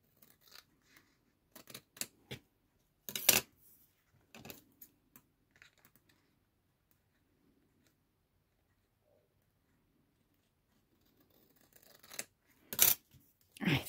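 Scissors cut paper for a mistletoe pop-up card in short bursts of crisp snips separated by quiet pauses, close and fairly faint.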